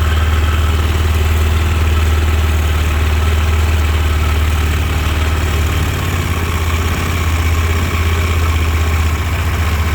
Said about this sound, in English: Let's turn that throttle adjustment knob down a little. Until it idles a little more reasonably.